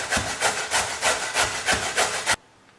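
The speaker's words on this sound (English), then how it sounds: "Now I'm going to grate the carrot." A carrot rubbed back and forth over a grater in a home kitchen, about nine rhythmic rasping strokes, close and fairly loud, stopping abruptly near the end.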